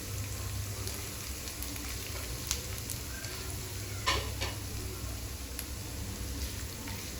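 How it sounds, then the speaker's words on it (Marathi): Finely chopped onion sizzles steadily in a pan, a continuous frying hiss with faint stirring clicks and taps, close and even throughout. "आता मी बारीक कट केलेला कांदा टाकते."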